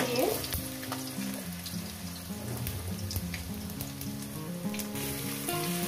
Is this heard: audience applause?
no